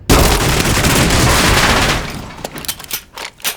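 Soldiers open fire on approaching Viet Cong: a loud, dense sustained volley of rifle and automatic gunfire that breaks off into scattered individual shots.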